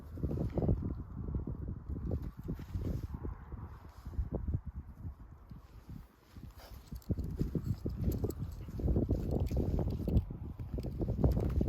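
Gusty wind buffets the microphone at an outdoor campsite where a hot tent has just been pitched, rumbling in uneven surges that swell and ease throughout, loud and close with no other clear sounds.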